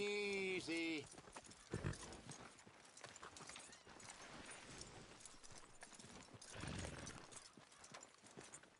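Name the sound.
horse hooves clip-clop in video game Red Dead Redemption 2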